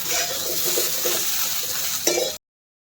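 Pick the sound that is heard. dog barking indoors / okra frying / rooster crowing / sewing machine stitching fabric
okra frying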